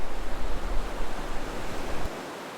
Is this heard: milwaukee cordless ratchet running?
no